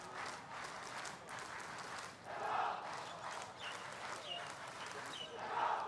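Myanmar supporters cheer and shout at an under-23 friendly football match against Singapore, a dense, steady crowd roar with swelling bursts, heard from a distance under continuous commentary.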